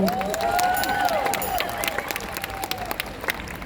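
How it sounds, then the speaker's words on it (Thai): Scattered applause from an audience at a stage event at the Silapacheep Prateep Thai OTOP fair, with steady clapping and a sustained ringing tone running through it, and no talking. "ขอเสียงปรบมือเป็นกำลังใจ"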